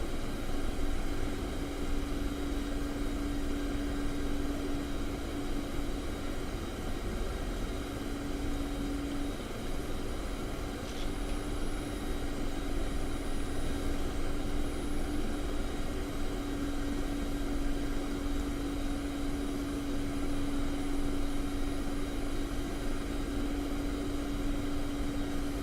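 Helicopter in the DCS flight simulator game, a steady droning rotor and engine hum with a constant tonal whine, running evenly throughout without talk.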